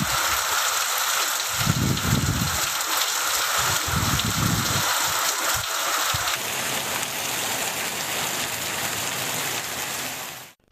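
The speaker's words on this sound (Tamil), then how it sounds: "ராஜபாளையத்தில் சுமார் 1 மணி நேரம் இடியுடன் கூடிய கனமழை கொட்டி தீர்த்தது." Heavy thundershower rain pours down in Rajapalayam, Tamil Nadu, as a loud, steady, dense hiss, with low rumbling bursts in the first few seconds before the downpour settles into an even roar.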